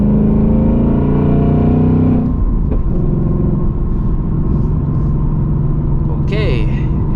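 A 2024 Mustang GT engine rumbles loudly up close, a rising rev that cuts off after about two seconds and drops to a lower, steady idle-like drone, with a brief squeal late on.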